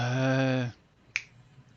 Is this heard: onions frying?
no